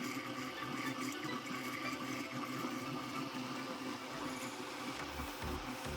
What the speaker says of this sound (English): I'm gonna go ahead and give it a quick little blend